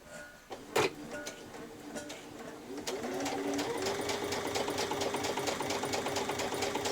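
A sewing machine runs a steady top-stitching row along the folded edge of a child's dress fabric, a few handling clicks first, then a continuous close mechanical whir.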